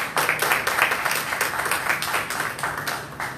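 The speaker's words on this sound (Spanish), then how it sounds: "Denle un aplauso al Señor." Church congregation applauding together at a Sunday school service, a steady dense patter of many hands clapping, fairly close and continuous for a few seconds.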